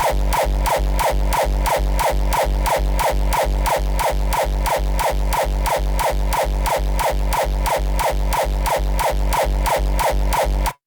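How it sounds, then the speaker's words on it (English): A steady, fast stream of punchy, hollow-sounding kick drum hits repeats evenly and loudly for about eleven seconds, with no voices. "I achieved this type of hollowy kick sound just by editing the existing kick"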